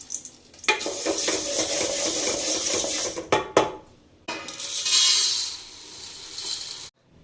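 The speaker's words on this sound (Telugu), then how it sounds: "పప్పులు బార్లీ కలిపి పోసేసుకొని వేపేసుకోండి. కానీ వేపేటప్పుడు మాత్రం మీకు తిప్పుతూనే ఉండండి" Lentils and barley dry roasting in a pan, with close scraping and rattling as they are stirred continuously, in bursts separated by brief pauses.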